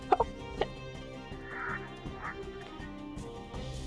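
A large turkey in the video game Unravel Two gives a few short, sharp gobbling squawks near the start, then quieter, scattered calls over a low game soundscape, with no talk.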